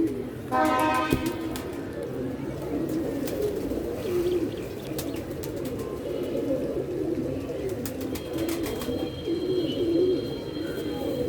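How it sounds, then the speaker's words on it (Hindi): Pigeons coo softly in a low, steady murmur throughout, with a brief burst of higher chirping near the start and faint clicks scattered across the background. "ये भी कबूतर पकड़ा माशाल्लाह"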